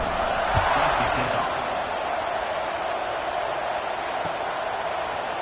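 A stadium crowd at a Utah vs Missouri college football game sends up a steady, loud, dense murmur just after a score, with a commentator talking over it.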